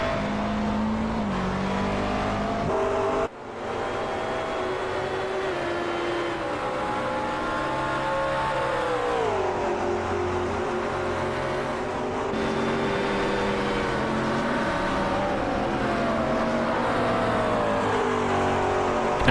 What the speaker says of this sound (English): And Cullen's very close as they exit 130-yard, not quite close enough to make a little attempt on the inside going into the Castiel Triangle